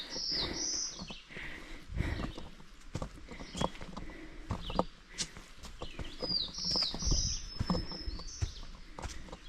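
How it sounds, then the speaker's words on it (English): Many birds singing in a mountain forest on Old Speck Mountain in Maine, several chirps and high trills near and far over close, rhythmic hiking footsteps on the trail. "Lots of birds."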